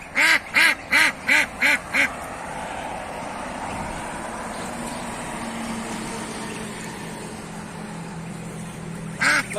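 Geese honking, a rapid run of six loud nasal calls close by, then a quiet stretch of background noise before one more honk at the end.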